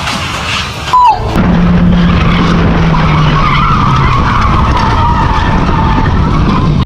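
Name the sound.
car skidding and crashing on road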